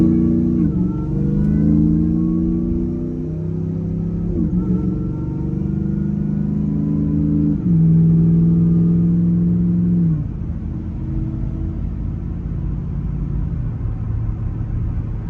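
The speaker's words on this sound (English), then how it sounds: "Now we'll try to do some city driving where we stay in the high RPM range." Vehicle engine held at high RPM during city driving with an EFILive tune, droning loudly and rising in pitch through repeated gear changes, each shift dropping the tone before it climbs again.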